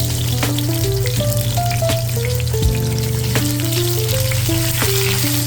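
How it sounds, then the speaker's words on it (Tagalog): Tofu sizzles steadily as it fries in hot oil in a pan, a dense continuous crackle with scattered pops, close and fairly loud, over a low hum. "ipainit ang mantika at ating pituin ang mga tokwa"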